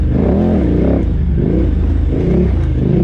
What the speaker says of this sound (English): Trying to be quiet so you guys can hear all the good 990 noises.